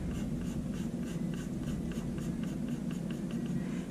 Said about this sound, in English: Then the middle one, I'll slightly press harder, not too much, and I'll bring my lines together.